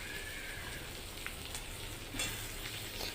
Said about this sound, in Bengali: কাঁচা লঙ্কা সব ভাজা চলছে, তারই মাঝে রসুন চলে গেল।